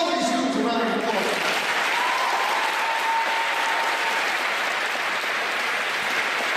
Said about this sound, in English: Give all these students a round of applause.